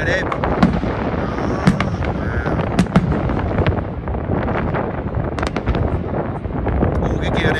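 Fireworks burst at night over Niagara Falls, sharp pops and crackles scattered through a dense rumbling wash of wind and water, with excited voices talking throughout.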